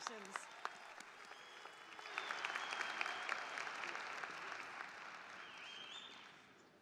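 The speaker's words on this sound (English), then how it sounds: "And let's give them a round of applause." Audience applause fills a university commencement ceremony after the business MBA and MSA graduates stand, a steady wash of many hands clapping that swells after a couple of seconds and holds at moderate level, with faint voices mixed in.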